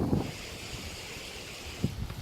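Wind blows across a hiking trail, a steady broad rush with brief gusts buffeting the microphone, heard alone with no talking.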